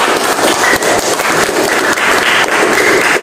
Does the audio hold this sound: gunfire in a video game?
no